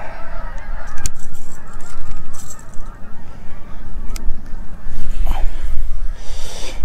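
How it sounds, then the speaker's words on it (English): A large flock of around two hundred geese honks overhead, loud and irregular, with overlapping calls above a breezy outdoor background beside a lake during winter bass fishing. "We got about like maybe 200 geese coming in."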